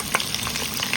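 Whole spices such as cloves, cinnamon, cardamom and bay leaf sizzling in ghee for a mutton biryani, a close, crackling fry with quick spits and bursts under constant stirring.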